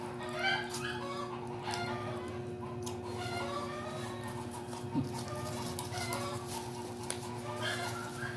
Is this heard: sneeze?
no